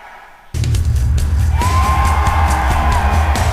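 Arena crowd in a WWE video game erupting suddenly into loud, sustained cheering and whooping that fills the space after a brief quiet moment.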